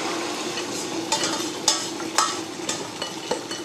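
A sauce being stirred in a pan over low simmer heat for pork meatballs, a steady soft sizzle with a few sharp scraping clicks of the utensil against the pan, close and alone.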